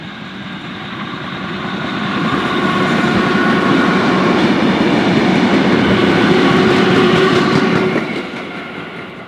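Steady rumble and rhythmic clatter of a Tait train, Melbourne's oldest suburban passenger train, rolling along rails between Pakenham and Dandenong, heard loudly from on board, swelling then easing near the end.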